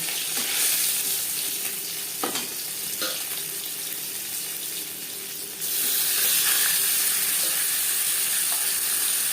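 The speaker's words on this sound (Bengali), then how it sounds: "প্রথম ব্যাচে মাছের মাথা ভাজা হয়ে গেছে" Katla fish heads fry in hot oil in a kadai, a dense, close sizzle with a few clinks and stirring knocks, growing louder and brighter partway through.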